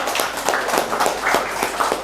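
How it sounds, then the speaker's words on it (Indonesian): A church congregation in Indonesia claps together during a sermon: loud, steady rhythmic handclaps from a crowd, evenly spaced over a couple of seconds. "Tepuk tangan buat Indonesia."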